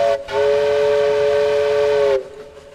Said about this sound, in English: just then the whistle made its big noise, rolling out across the Missouri plains.